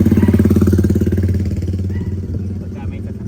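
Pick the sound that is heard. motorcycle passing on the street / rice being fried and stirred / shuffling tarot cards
motorcycle passing on the street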